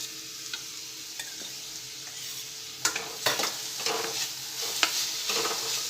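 Finely chopped capsicum sautés in a pan for a stovetop pizza topping, a soft steady sizzle punctuated by scattered spatula scrapes and taps that grow busier toward the end, close but fairly quiet.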